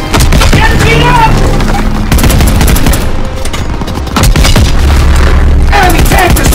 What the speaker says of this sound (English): Enemy tank destroyed!